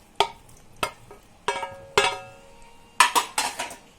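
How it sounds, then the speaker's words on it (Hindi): A metal spoon clanks against a pot as fried okra and eggplant are stirred into a Sindhi curry, giving about eight close, sharp clinks in uneven bursts with no talking. "ये जो मैंने भिंडी और बैंगन फ्राई करके रखा था, ये मैंने मिला दिया।"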